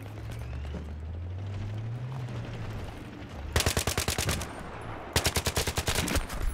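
Gunfire in the shooter game Battlefield 3: a low rumbling background gives way to two loud, rapid bursts of automatic fire, each sharp rattling sequence lasting over a second.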